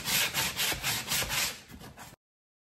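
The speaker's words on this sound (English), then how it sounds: "Are you going to sand it? Sand it more." A piece of plastic for a chick enclosure is sanded by hand in quick, rasping back-and-forth strokes, close and brief, with nothing else heard.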